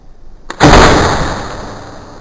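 A homemade hydrogen cannon fires a potato over a lake: a single loud, sharp blast erupts after a brief quiet and decays into a long, rushing rumble.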